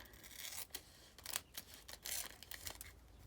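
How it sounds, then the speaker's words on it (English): Dull scissors snip in a quick, irregular series of faint crisp cuts as they trim around a vintage Kodak specimen slide mount, heard close with no talking. "These scissors are not that great actually, but I'll trim around it."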